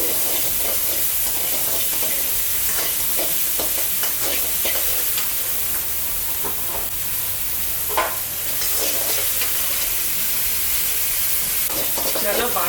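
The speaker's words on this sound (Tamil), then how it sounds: "பழம் நல்லா வதங்குற வரைக்கும் நல்லா வதக்கணும்." Tomatoes sauté in a pan for a village-style pepper and tomato kulambu, giving a steady loud sizzle and hiss with stirring scrapes throughout.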